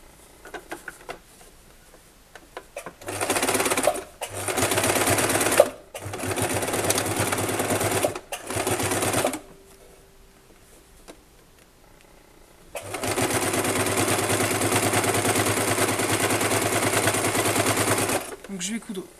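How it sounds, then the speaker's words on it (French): A sewing machine stitches along a bag handle for an Easter egg hunt bag, running in several short bursts and then one long steady run, with a voice talking in the pauses between. "Donc je vais coudre tout le long."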